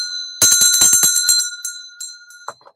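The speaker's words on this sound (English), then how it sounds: "I feel inspired to ring the bell." A small bell, likely a bicycle-style bell, is rung sharply and close, giving a bright ringing burst that lingers and decays, followed by a couple of lighter dings.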